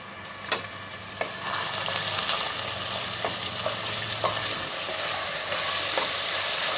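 Onion frying in hot oil in a pressure cooker for a quick chicken curry, a continuous close sizzle with a few sharp knocks and scrapes of stirring that grows fuller toward the end.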